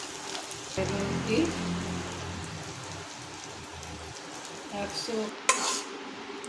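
Butter simmering into ghee in a pan, a steady crackling sizzle with light stirring scrapes, moderately close, with a low voice briefly underneath.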